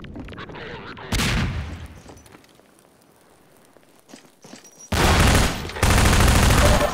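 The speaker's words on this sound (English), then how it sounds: "this is a shotgun" Shotgun fire in Half-Life 2: one loud, close blast early on, a quieter lull with small clatter, then two heavy back-to-back booming shots near the end.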